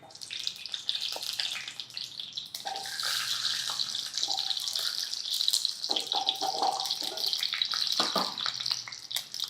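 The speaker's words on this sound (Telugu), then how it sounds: "ఈ కాయలు నూనెలో వేసేయండి." Indian gooseberries (amla) dropped into hot oil for pickle, giving a steady hissing sizzle that swells after a couple of seconds and keeps crackling with small bursts and pops, close and moderately quiet.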